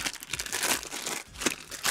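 A plastic bag holding the instructions for a 1/32 Arii plastic model kit of a 1955 Daihatsu CM10T crinkles up close in quick, irregular crackling bursts.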